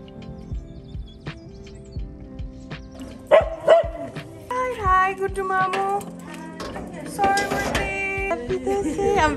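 A dog barks during a family gathering for the Dashain festival, giving a few short yapping barks among background voices and household noise.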